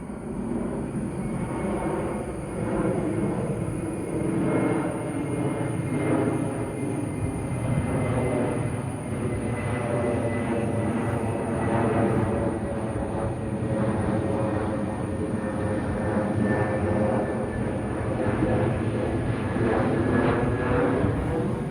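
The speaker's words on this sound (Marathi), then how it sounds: "हा बघा दुसरा विमान येला लगेच" A steady, droning engine roar holds throughout, loud and continuous with a low rumble and faint tones, like a plane passing overhead; no one speaks.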